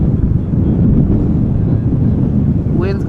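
Strong storm wind at Amsterdam Schiphol Airport roars as a loud, steady, low rumbling buffet against the microphone, with a brief faint voice near the end.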